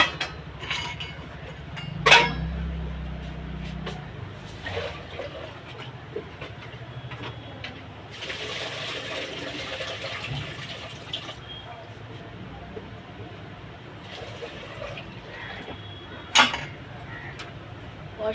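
Rice being washed with tap water in a pot in a home kitchen: gentle sloshing, trickling and occasional clinks of the pot, a stretch of running water in the middle, with brief voices and handling noises.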